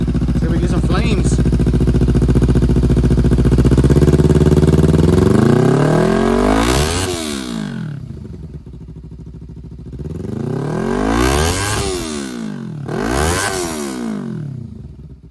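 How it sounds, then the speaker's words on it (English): A 2014 Kawasaki Ninja with a Ransoto muffler and its baffle removed revs hard and close. A sustained high rev falls away, then two sharp throttle blips rise and drop, loud and raspy. A voice is heard at the start. "Go ahead and rev it a little bit."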